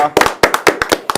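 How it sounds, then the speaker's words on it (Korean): A small group in a studio claps briefly to open a political talk show, giving a short burst of sharp, uneven claps lasting about a second. "박수로 시작하겠습니다."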